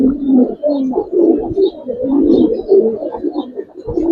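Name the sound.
Giribaz pigeons cooing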